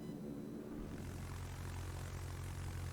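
Propeller aircraft engines of planes in the World of Warships naval battle game make a steady, continuous droning hum that holds level throughout, with no voices.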